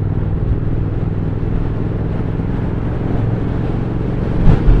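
Steady, loud rumble of a 2023 Triumph Speed Twin motorcycle engine and exhaust at cruising speed, with wind noise mixed in and a brief surge near the end.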